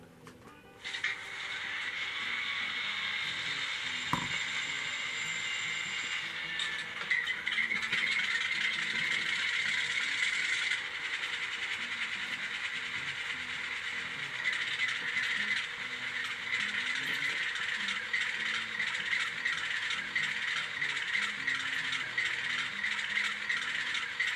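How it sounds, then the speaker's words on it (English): An Atlas N scale New Haven RS-3 model locomotive with an ESU LokSound V5 decoder runs its startup sequence, a click followed by a steady mechanical rattle and a whirring diesel idle that holds on, close and alone. "So let's go ahead and press function 8 and listen to the startup sequence."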